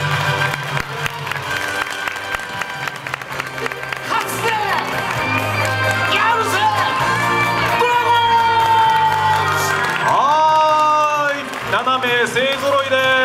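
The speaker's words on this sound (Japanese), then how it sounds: "皆さん盛大な拍手でお迎えいただきたいと思います" Audience applause and cheering welcome a Japanese girls' performance group onto a stage at a live event, with crowd noise and voices over music for several seconds.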